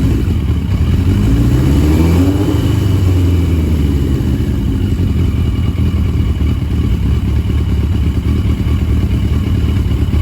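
A barn-find 1982 Yamaha Maxim XJ750 motorcycle engine runs roughly on bad gas, a steady close idle with a brief uneven rev near the start, then a continuous low rumble with no talk.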